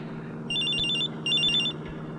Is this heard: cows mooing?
no